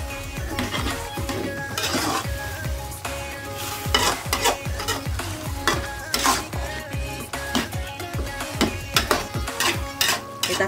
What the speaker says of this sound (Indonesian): Kita aduk lagi sampai bumbunya meresap